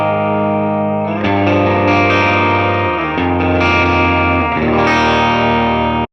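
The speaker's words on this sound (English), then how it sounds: "Let's finally hear the bridge pickup." A Fender Jazzmaster electric guitar played through its bridge pickup with distortion and chorus-like effects rings out in sustained, loud chords that shift every second or so, with heavy saturation and no speaking.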